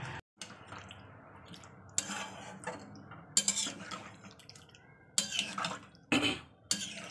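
Water from rinsing a mortar is poured into a pan of chicken kosa as it cooks. Splashing and sizzling come in several separate bursts, with a clatter of metal utensils against the pan in between.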